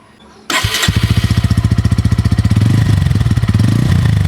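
A Bajaj Pulsar N150 motorcycle engine fires up after a moment of quiet, then runs loudly and close by with a fast, even thumping beat.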